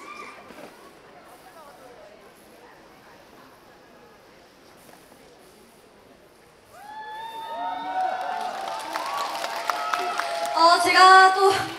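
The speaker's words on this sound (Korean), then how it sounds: "여러분, 큰 박수 부탁드립니다" At an outdoor music festival concert, faint crowd murmur gives way to swelling applause and cheering that builds and grows louder toward the end, mixed with the first notes of music.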